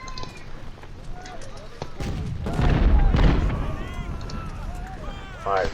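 Skirmish musket fire in the Ultimate General: Civil War game rumbles as a low, muffled crackle under steady talk, swelling in the middle before easing off.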